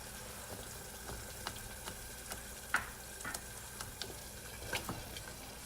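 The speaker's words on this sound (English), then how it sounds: "Let us stir that for a quick moment." Food frying in a pan for a BBQ chicken sandwich is stirred with a utensil, giving soft, irregular scraping taps over a faint, steady sizzle.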